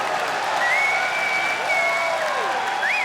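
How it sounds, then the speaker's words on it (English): A stadium crowd at the CS:GO ELEAGUE Major in Boston claps for the Cloud9 team during the semifinal against SK. The applause is a continuous wash, with a few sharp whistles rising above it. "The crowd appreciating this Cloud9 lineup that Jack has put together."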